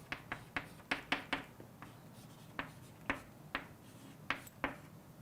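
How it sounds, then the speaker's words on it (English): An equation is handwritten with a pen or marker, producing a quiet, close series of short scratchy strokes and taps in an irregular rhythm. "let me just first of all write this equation"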